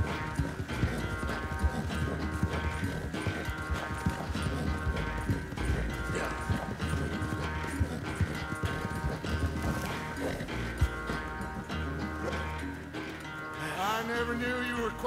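Horse hooves gallop steadily in Red Dead Redemption, a continuous rhythmic clip-clop over game music, with a brief whinny near the end.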